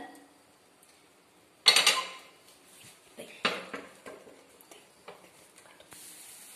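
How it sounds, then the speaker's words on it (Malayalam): Batter lands in a hot oiled pan with a sudden burst of sizzle after a quiet start, then fades into lighter hissing and a few soft clinks from utensils and cookware. "ഇനി ഇതൊരു പാനിലോട്ട് മറിക്കുകയും"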